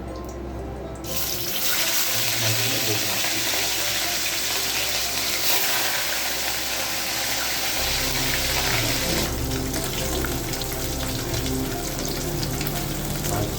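Pieces of katla fish over 300 grams, salted to stop spattering, frying in hot oil in a home kitchen, giving a loud, continuous close-up sizzle and hiss that swells after a brief quiet start and carries on without talking.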